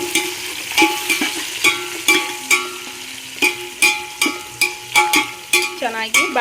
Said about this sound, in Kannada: ಬಾಡಲಿ ಚೆನ್ನಾಗಿ ಬಾಡಿಸ್ಕೊಳ್ಳಿ ಈರುಳ್ಳಿನ